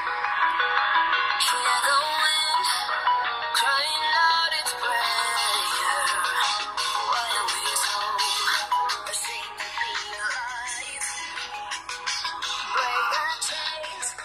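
A ringtone melody plays loud and bright through the speaker of a ZTE Zmax Pro phone with Dolby audio enabled, a busy, continuous tune with no talking over it.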